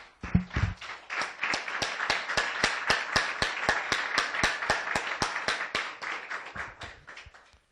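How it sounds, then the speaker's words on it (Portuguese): A church congregation claps together in steady, rhythmic unison during a worship service, loud and sustained for several seconds before tapering off at the end, with no talking over it. "Vamos dar uma salva de palmas para o nosso Deus."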